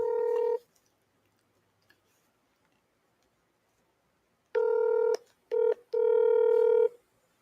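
Telephone keypad dialing tones: one short beep, a pause, then a burst of several beeps ending in a longer tone, clear and isolated against silence.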